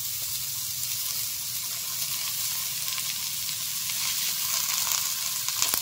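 Chopped snake gourd frying in a pan over browned onions, a loud continuous close sizzle with faint stirring scrapes, no speech.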